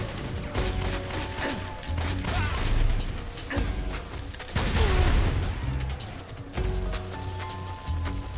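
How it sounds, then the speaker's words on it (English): Machine gun fire in Metal Gear Solid 3 HD, heard as dense repeated bursts of gunshots with crashes and impacts mixed in, loud and sustained across the whole stretch alongside game music and effects. "Hello, machine gun."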